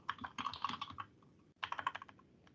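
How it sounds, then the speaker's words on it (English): Someone types a name on a computer keyboard: two quick bursts of close, soft key clicks with a short pause between them, quiet and free of speech. "I'll type my name back in again"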